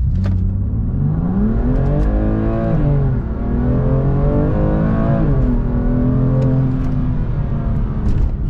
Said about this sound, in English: So let's start in first gear from still.